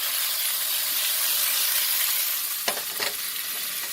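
Onions fry in a pan with a steady, close sizzle and hiss, then a couple of scraping stirs near the end.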